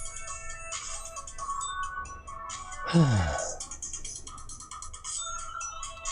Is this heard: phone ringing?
yes